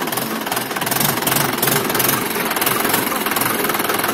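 A 2014 Mahindra 575 tractor's diesel engine running steadily at idle with a rough, rapid knocking pulse, loud and close, with a faint voice in the background.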